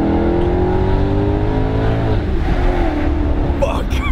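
Maserati GranTurismo MC engine revving loudly nearby, a deep, rising exhaust note that climbs and then eases off, with a brief speech-like sound near the end.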